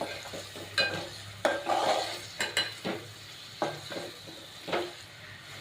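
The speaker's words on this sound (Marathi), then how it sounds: "आता हे कालवं आपल्याला व्यवस्थित अशी मिक्स करून घ्यायची आहे" Oysters being stirred in a pan for a dry Agri Koli-style masala, giving a run of scraping, clinking utensil strokes over a soft sizzle, close and fairly loud with no voices.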